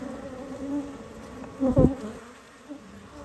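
Honey bees buzz in a low, steady drone, with a louder, closer burst partway through as one passes near.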